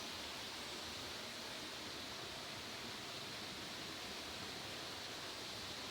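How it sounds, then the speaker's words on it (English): A waterfall in a village gives off a steady broadband rush of falling water, constant and fairly soft throughout, with no voices over it. "I'm grateful and happy to see the waterfall in my village"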